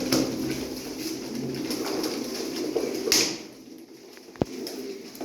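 Pigeons coo at a live bird auction, soft repeated calls over a steady room murmur, with a brief clack near the end.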